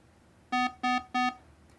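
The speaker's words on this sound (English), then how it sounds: "they were just basically an artificially manufactured beeping sound" Artificially manufactured warning alarm sound effect: three evenly spaced electronic beeps, each a steady buzzy tone of about a sixth of a second, clear and close against near silence.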